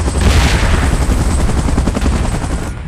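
Helicopter in the video game PUBG, in a Godzilla vs Kong vs MechaGodzilla last-stand mode, with a loud steady rotor-like roar and dense low rumble running throughout, mixed with gunfire-like bursts.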